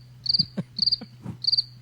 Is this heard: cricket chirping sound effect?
yes